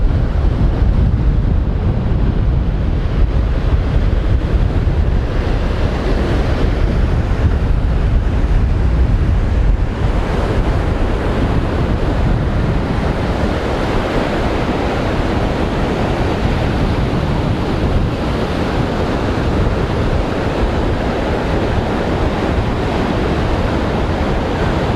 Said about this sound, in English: These guys have more than enough wind here.